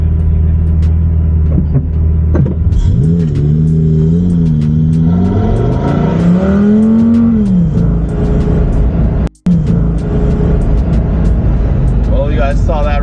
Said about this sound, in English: Lamborghini.